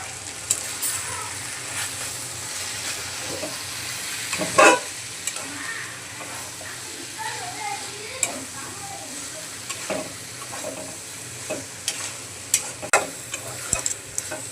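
Mixed vegetables fry in a pan for a Bengali vegetarian dish, a steady soft sizzle broken by sharp scraping clicks of stirring that grow more frequent toward the end, close up with no talking.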